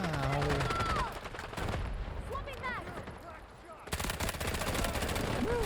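Bursts of automatic K416 rifle fire in the shooter Delta Force, loud and close, in two stretches separated by quieter gaps, while someone talks over it.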